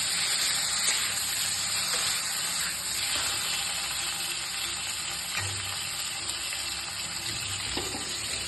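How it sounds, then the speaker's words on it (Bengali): Turmeric-marinated potatoes fry lightly in hot oil, giving a steady, dense sizzle that runs unbroken and fairly loud, with a few faint clinks of stirring. "সেটাকে আমরা তেলে দিয়ে দেবো এবং হালকা করে ভাজবো"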